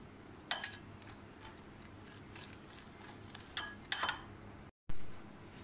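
Cocoa powder and an egg mixed in a bowl for a chocolate brownie batter, with light rhythmic ticks and clinks of a utensil against the bowl, a few sharper knocks, and a brief silent gap near the end.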